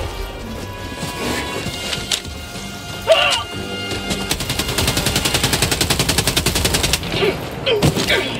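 Rapid automatic gunfire from advanced weapons in the video game Helldivers 2 during a Terminid battle, with sharp bursts and impacts, then a sustained fast rattling stream of shots, loud and close.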